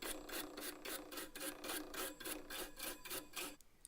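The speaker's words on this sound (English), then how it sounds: "the bits I couldn't reach, I used a wire brush" A wire brush scrubs a painted DVD rack in fast, even rasping strokes, about four per second, close and distinct, then stops abruptly near the end.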